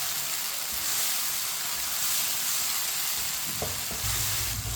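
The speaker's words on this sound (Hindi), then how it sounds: "टमाटर और सब्ज मिर्च को मैंने मिक्स कर लिया। अब इसे 3 मिनट के लिए पका लेंगे टमाटर को" Tomatoes and green chilies sizzle and fry steadily in a pan, a continuous close hiss with light stirring scrapes near the end.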